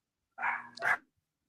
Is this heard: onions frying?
no